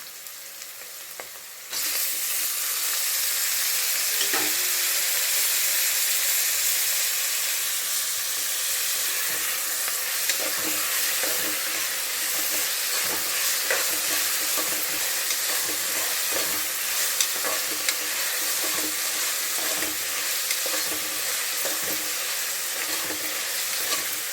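Tomato frying in a pot for pulav while being stirred: a loud, dense, steady sizzle starts abruptly after a brief quieter moment and continues close up, with scraping stirring strokes.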